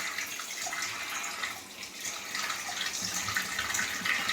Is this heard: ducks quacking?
no